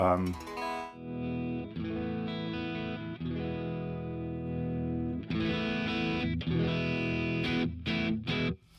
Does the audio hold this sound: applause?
no